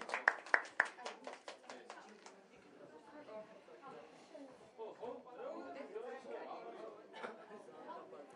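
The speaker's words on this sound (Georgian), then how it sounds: "ტაში მონაწილეებს" A short burst of hand clapping from a small group in a live-streamed studio show, crisp separate claps for about two seconds before voices and chatter take over.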